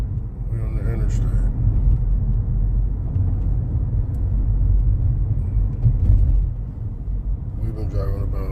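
Steady low road rumble from a Kia Sportage cruising on the interstate, heard from inside the cabin, with continuous engine and tire drone throughout and brief muffled voices near the start and end.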